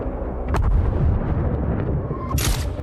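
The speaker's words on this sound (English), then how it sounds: "took out several of the drones, while Drasa shot down 2 more." Sniper rifle fire shooting down drones in a film action scene: a sharp shot cracks early, followed by a heavy rumbling boom and another bright burst near the end, loud and close with no talking.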